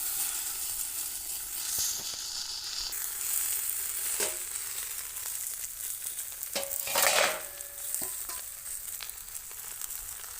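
Morola fish frying on a banana leaf in a wok gives a steady, moderate sizzle and hiss, with a few brief clinks and scrapes of a utensil near the middle.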